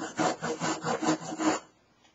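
Camp saw cutting through wood, about six rapid rhythmic rasping strokes close up, then trailing off to quiet.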